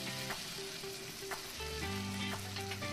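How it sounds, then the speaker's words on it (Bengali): Fish curry frying in a pan with tomato and ginger paste, a steady close sizzle with faint tonal hum beneath it and no talking. "ভালো করে একটু 1 মিনিট বা এরকম ভেজে নেবে"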